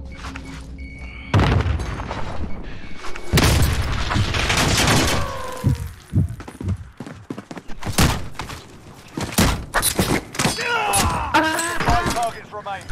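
A grenade explodes in a first-person shooter video game, followed by a series of loud booms, thuds and bursts of gunfire in rapid succession, with the player's voice at times alongside.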